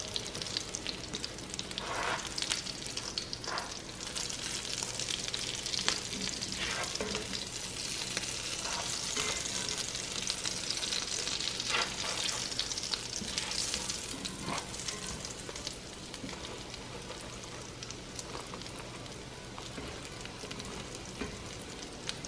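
Mashed potato cakes sizzle and fry in a pan, a soft continuous crackle with scattered louder pops, steady and fairly faint throughout with no talking.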